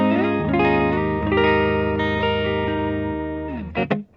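A 1993 Gibson Limited Edition Flying V electric guitar in the middle pickup position rings out sustained chords and sliding notes with distortion and chorus-like shimmer, ending on a couple of sharp plucked accents.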